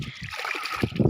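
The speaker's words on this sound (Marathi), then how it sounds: "पडला पाण्यात" A close splash as a child falls into water on a farm, a short burst of sloshing right after.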